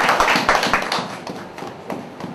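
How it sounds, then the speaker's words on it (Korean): A church congregation applauds to welcome a pastor, with a burst of loud clapping at first that thins into scattered, quieter claps. "이상희 목사님 오실 때 크게 한번 박수로 환영해 주시기 바랍니다"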